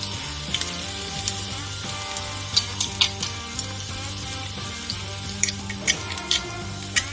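Garlic frying in a hot pan for a lasagna loaf gives a steady, soft sizzle with occasional crackles, sitting under prominent background music.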